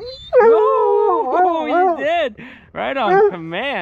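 A dog howls and whimpers in long wavering, rising and falling tones, close and loud in several bursts, while someone talks to it over the calls.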